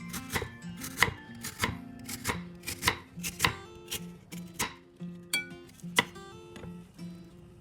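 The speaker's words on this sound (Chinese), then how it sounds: "藕切片待用。" Lotus root sliced with a knife on a board for a spicy Szechuan stir fry: crisp, evenly paced taps, roughly one or two per second, close and clear with no voices.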